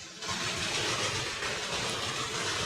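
A vehicle engine in the video game Ice Scream chapter 3 runs as a continuous, even rumbling roar that holds steady throughout, fairly close and loud with no talk.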